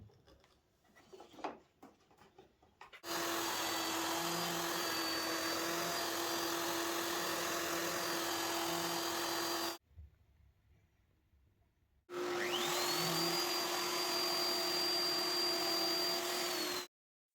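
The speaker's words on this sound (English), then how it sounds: "I mount the guide bushing on my router and install a straight bit. I will use this to remove most of the waste before cutting the dovetail shapes." Router with a straight bit routing waste wood from a dovetail joint using a guide bushing: two long, loud, steady high whining passes with cutting noise, separated by a brief pause, ending as the motor winds down.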